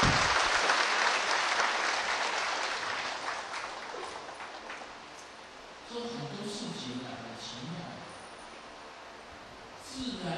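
Audience applause at a Buddhist dharma talk at a temple in Taiwan, a loud burst of clapping that fades over several seconds, with a brief swell again near the end and faint voices beneath.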